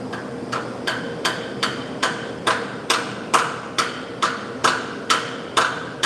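A steady series of about fifteen evenly spaced, loud hammer blows drives an alignment dowel into a car engine block in a workshop, each strike sharp and close with no talking.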